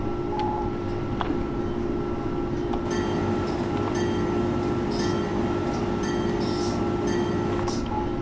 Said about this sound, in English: A legendary locomotive.